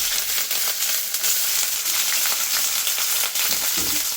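Onion and garlic fry in a little oil in a wok, giving a loud, continuous close-up sizzle with a few scraping stirs near the end.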